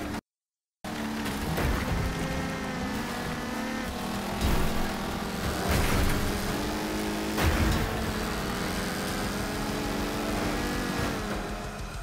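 A car engine races in the demolition racing game Wreckfest, the Rocket starter car. It gives a loud, continuous revving drone that rises and falls through gear changes over about twelve seconds, with occasional harder knocks and surges.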